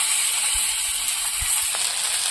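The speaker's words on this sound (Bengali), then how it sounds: "মাছটা একটু ভেজে নেব।" Shrimp with turmeric fry in a pan over onion and garlic, giving a steady, close hiss and sizzle broken by a few soft low thumps of stirring.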